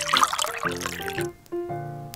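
Water poured into a pot while preparing a miniature chicken recipe, a continuous splashing trickle up close, mixed with bright tonal music throughout.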